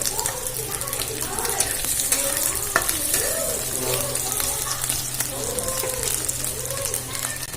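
Ingredients for chana dal pulao fry in hot oil in a pan, making a steady, fairly close sizzle with occasional stirring clinks. Someone talks over the frying throughout.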